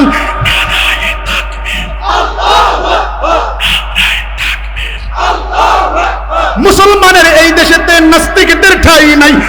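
A crowd chanting Bengali slogans together at a religious rally in Bangladesh: a loud lead voice calls out in rhythm and a massed crowd answers in unison, growing louder and fuller toward the end.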